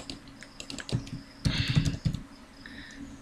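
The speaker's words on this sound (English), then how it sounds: "Why am I typing this all again?" Keys clatter on a computer keyboard in short bursts of close, crisp clicks, with pauses between flurries, during a Minecraft prison-server session; no voices.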